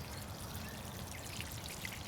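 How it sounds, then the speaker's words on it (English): Water poured steadily over newly planted lavender in a garden bed, a continuous close splashing and trickling wash with no pauses and no talking. "Now we're going to give these guys some water"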